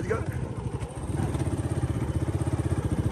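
A motorcycle engine runs close by on a farm trip in Punjab, its steady low thumping pulse growing more regular and rhythmic toward the end, with a person's voice heard faintly at the start.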